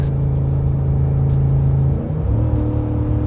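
A Ford F150 pickup with a 5L Coyote V8 climbs a mountain grade while towing. Its loud, steady engine drone drops and then rises in pitch as the transmission downshifts partway through, heard from the cab with no talking.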